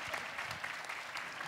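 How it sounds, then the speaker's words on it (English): Brief burst of audience applause for an entrepreneurship panel, a steady dense patter of many hands clapping from a crowd. "Let's give them a round of applause."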